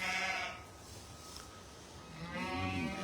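Sheep and a newborn lamb bleat on a farm at lambing time, a loud close bleat at the start and another rising near the end over steady barnyard background.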